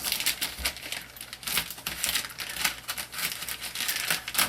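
Plastic wrapping on a boxed 1:10 scale RC monster truck being cut open, a continuous close crinkling and rustling with rapid crackles and small tearing sounds throughout, no talk.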